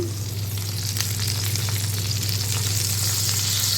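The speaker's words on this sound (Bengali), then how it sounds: "এটা কিন্তু ভাপার মতোই হলো, তেলেও ভাজা হলো" Hilsa fish paturi frying in oil over a low flame gives a loud, steady, dense sizzle that holds without a break, with no voices.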